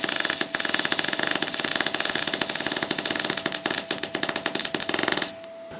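An R-Tech MIG181 digital MIG welder lays a weld on steel plate, giving a loud, steady crackling buzz with dense rapid pops for about five seconds before cutting off abruptly.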